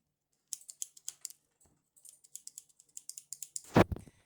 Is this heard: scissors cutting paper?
yes